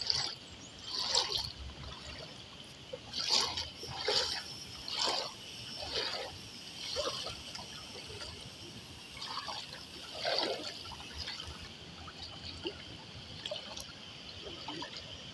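Water from the Santo Domingo river in Barinas, Venezuela, trickles and splashes faintly in bursts, small irregular gurgles and drips over a quiet background.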